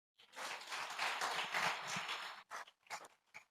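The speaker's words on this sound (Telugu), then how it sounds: "చప్పట్లు కొట్టండి." A church congregation at a fasting prayer meeting claps hands together in a steady burst of about two seconds, followed by a few scattered, fading claps.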